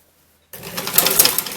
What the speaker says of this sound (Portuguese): Então aqui eu vou começar a costurar os ombros